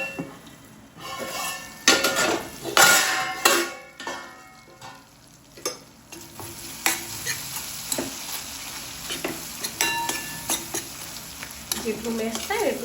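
Tomato cooks in oil in a pan with a continuous sizzle, broken at first by loud clatters and scrapes of a spoon. Lighter stirring taps and knocks follow.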